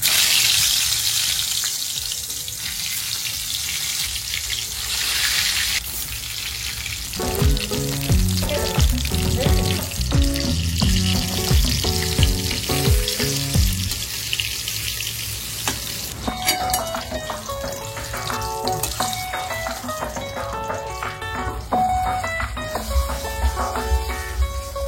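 Eggplant slices rubbed with turmeric and salt frying in hot oil, a steady loud sizzle and crackle that runs continuously and close, with occasional shifts as pieces are moved in the pan.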